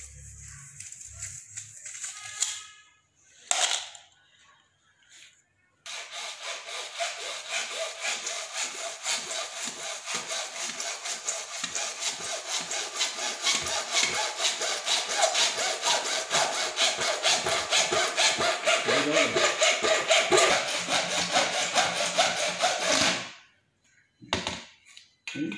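A hand saw cuts through a marked length of material for a vertical hydroponic system, a long run of steady, rhythmic rasping strokes, close and loud, after a few brief taps and pauses.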